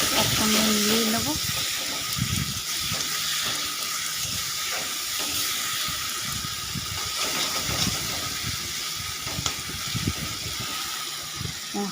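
Spices fry in hot oil in a pan, giving a loud, steady broadband hiss and sizzle throughout, with a voice talking underneath at times.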